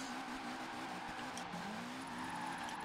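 A Mitsubishi Evo 8 drifts and spins out in Forza Horizon 4, its engine droning steadily with a rising pitch while tires hiss and squeal underneath, continuous and moderately quiet.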